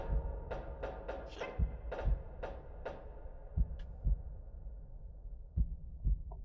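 Thudding heartbeat effect in the game Cavern of Dreams, low paired beats repeating steadily under brighter clicking game sounds early on, then continuing alone, fairly loud and close throughout.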